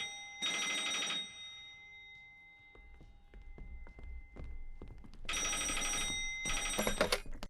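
Two bursts of an old-style telephone bell ringing loudly in a theatre rehearsal space, separated by quieter thumps and footsteps, the ringing returning near the end.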